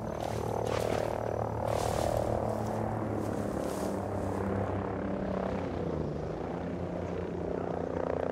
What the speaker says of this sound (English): Helo inbound.